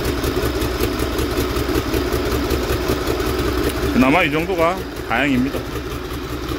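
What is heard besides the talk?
boat engine running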